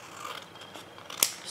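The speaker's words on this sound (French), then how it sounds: "Voilà, j'ai coupé comme ça avec les ciseaux." Scissors snip through paper while a pop-up carousel card is cut, a soft rasping slice building to one sharp, crisp closing snip near the end, quiet and close with no talk.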